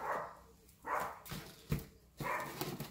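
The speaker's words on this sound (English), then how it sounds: "If you hear my dogs barking, I apologize." Dogs barking at squirrels near a house door, a few muffled barks spaced apart with pauses between, faint and somewhat distant.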